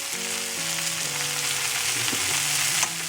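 Okra and onions frying in a pan while being stirred, a steady close sizzle running throughout with the scrape of the utensil through the vegetables and no voices.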